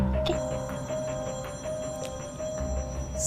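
Telephone ringing with a steady repeated electronic ring tone, moderately quiet beneath a constant background hum.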